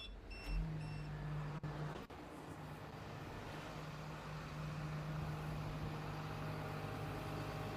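An off-highway machine's diesel engine cranks briefly, fires and settles into a steady idle during injector and AdBlue system diagnostics, a continuous low rumble with a constant hum that stays level to the end.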